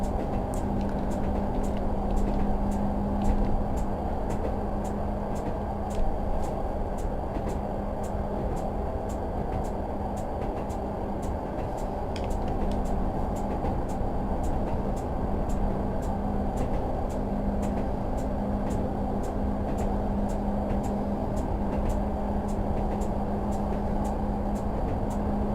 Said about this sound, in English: I'm just going to apply power again to the train